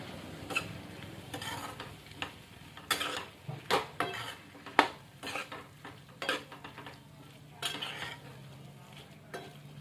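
A spoon stirs and scrapes a potato filling for dosa in a pan, with irregular clinks and scrapes of metal over a soft sizzle.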